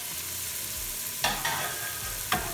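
Close and steady sizzle of carrots sweating in oil in a pan, with a few brief clicks and scrapes of stirring, and no talking.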